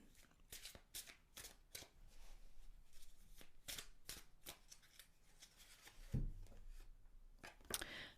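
Osho Zen tarot cards being shuffled by hand, a run of crisp riffling bursts at an irregular rhythm, close and fairly quiet, with a small thump near the end.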